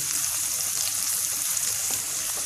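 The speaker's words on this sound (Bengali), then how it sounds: "চুলা কমটাতে রেখে আমি ভেজে দিলাম" Green chilies with fennel seeds and cumin frying in oil over a low flame for an olive pickle, giving a steady, dense sizzle close by with faint crackles throughout, no voices.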